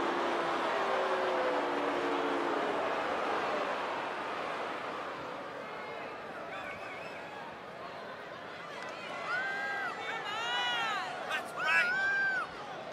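Excited match crowd at a women's bout, a steady broad roar that is loud at first and then eases, with a few sharp whistles and cheers rising near the end.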